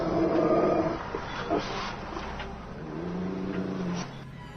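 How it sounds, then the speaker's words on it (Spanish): A dog growling low and menacing as if about to attack, a faint rough rumble with brief whimpering tones, used as a horror story sound effect. "se escuchó muy cerca de sus oídos el sonido característico de un perro a punto de atacar"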